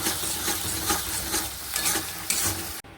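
Spice paste frying and being stirred in a pan for a curry of dhoka, potol and potato, a dense steady sizzle with rhythmic scraping strokes, close and loud, ending abruptly near the close.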